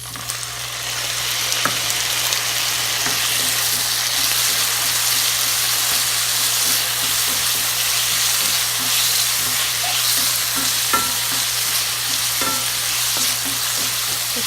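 Chicken and tomatoes sauté in a hot pan with a steady, loud sizzle that runs throughout, and occasional soft stirring clicks come through close by.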